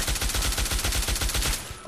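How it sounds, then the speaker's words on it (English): Rapid automatic fire from the Infiltrator rifle in Fallout 3, a loud, evenly spaced burst of about a dozen shots over a second and a half before it stops. "let's use the infiltrator"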